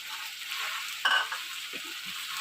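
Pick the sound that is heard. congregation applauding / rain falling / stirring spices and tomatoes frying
stirring spices and tomatoes frying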